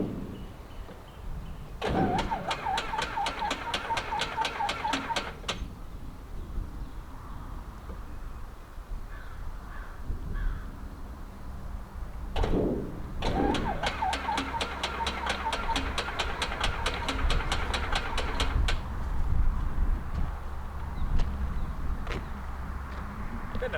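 A 1953 Beechcraft D35 V-tail Bonanza engine cranking without catching, two separate bursts of rapid, rhythmic starter chugging a few seconds long each, with low rumble and quiet gaps between attempts.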